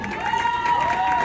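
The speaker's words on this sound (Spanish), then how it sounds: "¡Los aplausos! ¡Bravo!" Audience at a live cumbia dance show claps and cheers in a steady, moderately loud crowd wash, with a sustained musical tone running through it.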